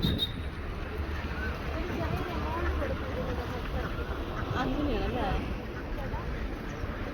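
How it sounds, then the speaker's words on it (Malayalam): A flock of egg-laying ducks quacks in a steady chorus under a constant background hum, with a voice speaking over them. "ഇവിടെയുള്ള നിറച്ച് താറാവുകളാണ് കേട്ടോ മുട്ട താറാവ്"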